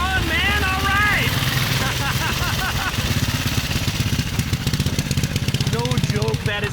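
Neracar friction-drive motorcycle with center hub steering idles with a rapid loud clattering beat at a vintage motorcycle endurance run stop, while people talk close by over it.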